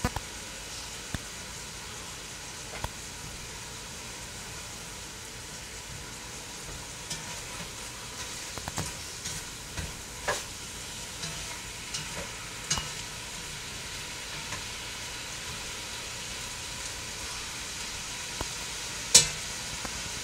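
Beef and onions browning in olive oil for a Greek Epirus-style beef dish, giving a steady low sizzle with occasional stirring clinks, close and fairly quiet throughout.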